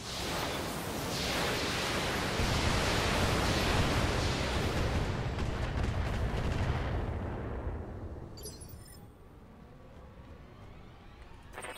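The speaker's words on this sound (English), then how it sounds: "Firing all weapons." In the BattleTech video game, a mech fires all its weapons at once, a loud, dense roaring barrage that holds for several seconds, then thins and fades, with a few faint clicks at the end.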